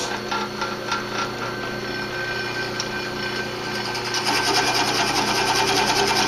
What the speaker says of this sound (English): drill it back the other way just to keep this part clean